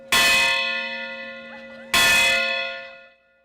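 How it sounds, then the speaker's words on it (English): Two loud strikes of the Freedom Bell at the West Virginia state capitol on MLK Day, each clang ringing out with a long, slowly fading hum before the next. "that bell rings with passion and purpose"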